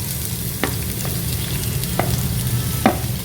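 Onions frying in hot coconut oil, a steady close sizzle with a few sharp stirring clinks and scrapes from a utensil against the pan.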